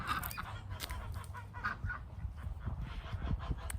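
Rhode Island Red chickens clucking and squawking in a steady, busy stream of short calls, near and moderately loud over a rough, noisy background.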